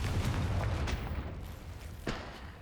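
Rumbling blasts from the Confringo fire spell in Hogwarts Legacy, a dense low boom rolling on with a few sharper cracks and a fresh burst near the end, loud and close with no talking.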